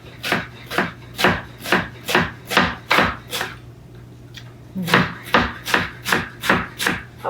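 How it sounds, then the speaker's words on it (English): Knife chopping celery on a wooden cutting board: a steady run of sharp, close chops in a regular rhythm, a brief pause, then another series of even strokes, with no talking. "just cut these up here and then stack them up here, and then we'll run our knife through here"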